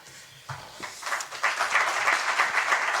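Seminar audience breaking into applause in a lecture hall, starting sparse after a half-second and swelling into dense, steady clapping.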